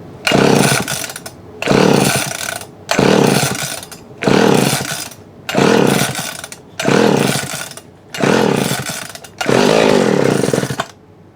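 An old Homelite 360 chainsaw with a carburetor fault, its needle suspected stuck, starts and runs in loud close bursts of about a second each, revving and dropping roughly eight times in a steady rhythm.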